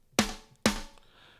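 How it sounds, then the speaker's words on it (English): Two separate hits from a dry drum sample in the Yosh Drum Warehouse plugin land half a second apart, each a sharp, close attack with a short decay and no talking. "or I can do a dry, which sounds like this."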